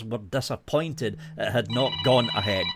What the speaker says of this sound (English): That's my alarm going off. It wasn't a phone call.